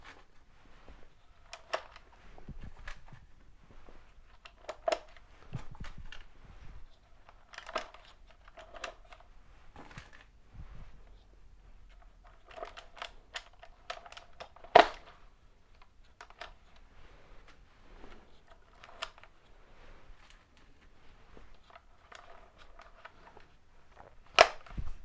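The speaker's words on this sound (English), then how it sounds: "loading 10 rounds isn't exactly the quickest process on the battlefield" Rounds being loaded one by one into a Kronos handcannon magazine, a series of small sharp clicks at an uneven pace spread over the whole stretch, fairly quiet with pauses between.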